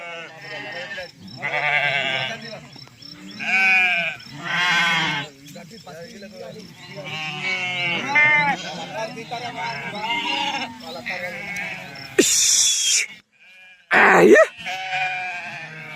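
Sheep bleat repeatedly after a night of rain, several calls close by and overlapping, with people talking among the animals throughout.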